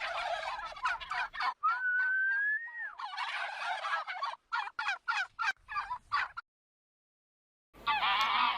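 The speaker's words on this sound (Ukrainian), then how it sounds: "Індик пір'я розпушив і пихато белькотів" A turkey gobbles in a series of rapid, loud bursts, with a drawn-out whistling note partway through and a short pause before a final gobble.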